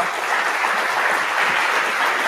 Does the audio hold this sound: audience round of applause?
yes